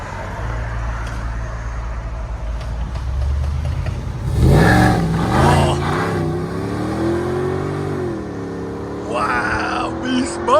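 A modified Audi S8 V8 with a double resonator delete launches hard, its engine rumbling low at first and then erupting into a loud, rising roar that climbs through the gears, with faint voices and wind in the background.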